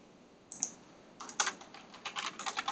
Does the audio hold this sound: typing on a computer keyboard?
yes